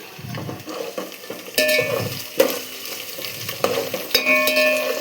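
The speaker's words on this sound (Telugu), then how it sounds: "ఆనియన్స్ ఇట్లా ఫ్రై అవుతున్నాయి కదా" Sliced onions and slit green chillies sizzle steadily in hot oil for a chicken biryani, with a spoon stirring and scraping the pan now and then; close and fairly loud, with no talking.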